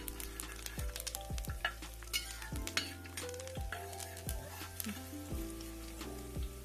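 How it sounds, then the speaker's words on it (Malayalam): Curry leaves and green chili sizzle in hot oil for a Kottayam-style fish curry, a steady close crackle broken by repeated clinks and scrapes of a spoon stirring in the pan. "ഇതിലേക്ക് കറിവേപ്പില ചേർത്ത് കൊടുക്കാം."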